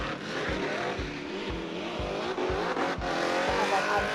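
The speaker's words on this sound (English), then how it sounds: "So I'm clutch kicking through this final turn" A Formula Drift car at a Orlando event slides sideways through the final turn, its engine note pulsing in a steady rhythm from clutch kicks amid a continuous roar, heard from inside the car.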